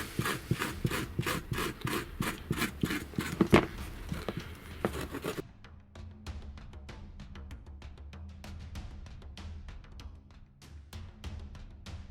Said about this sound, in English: take something and just scrape it away